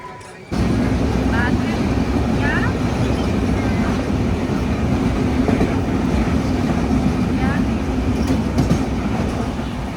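Steady loud rumble of a Mumbai-to-Goa train running on the tracks near Thivim station, continuous throughout with faint rhythmic clatter, heard from inside.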